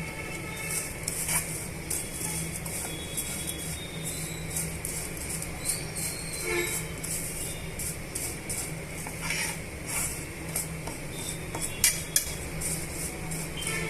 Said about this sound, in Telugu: ఇలా వేయించేసుకోవాలి వన్ మినిట్ అలా వేగనివ్వాలండి స్టవ్ మీడియం సైజ్ మీడియంలో పెట్టుకొని వేయించేసుకోండి